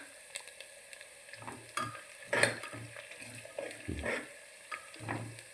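Spices and dried red chili sizzle quietly in a pan while a spoon stirs them in irregular scraping strokes, with soft clinks against the metal.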